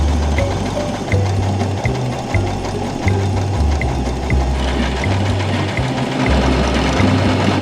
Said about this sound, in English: let's sew on this little pink circle.